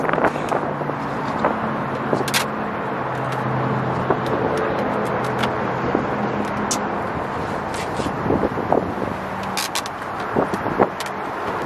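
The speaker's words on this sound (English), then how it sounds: "Oh, the wind." Outdoor wind gusting at a mall parking area while someone sits in the back of a car, a steady broadband rush with buffeting across the microphone and some distant traffic hum beneath, continuous throughout.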